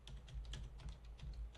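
Fast, close keystrokes on a computer keyboard as a dose remark is typed into an outpatient prescription template, with clicks coming in quick bursts over a low steady hum.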